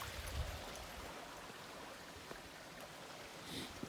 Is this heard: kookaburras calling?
no